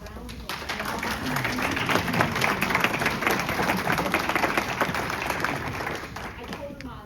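A school board meeting audience applauds right after the Pledge of Allegiance: dense, steady clapping from a room full of people, fairly loud and continuous for several seconds before easing slightly at the end.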